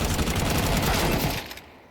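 Rapid SMG gunfire rings out in Counter-Strike 2 as two players push through smoke in a lane fight at a PGL Astana match: a loud, dense burst of overlapping shots that cuts off abruptly near the end.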